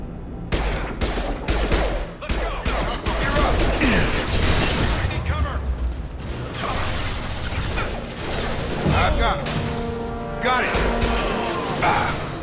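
Rapid gunfire from the video game Mass Effect 2, Blue Suns mercenaries and Vorcha shooting: dense, loud bursts of automatic fire and impacts fill the whole stretch with barely a pause, mixed with clanks and crashes of combat.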